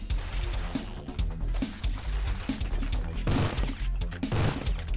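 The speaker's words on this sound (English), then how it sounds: "This minigun is where it's at." Minigun in the video game Doomsday Hunters firing a steady stream of rapid shots, with loud repeated bursts and heavier impacts building toward the end, no talking.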